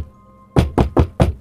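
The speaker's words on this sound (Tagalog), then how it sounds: "Katok pa ni Mama sa pintuan." Four firm, evenly spaced knocks on a door, close and loud after a moment of quiet.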